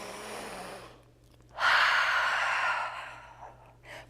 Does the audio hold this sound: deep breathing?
yes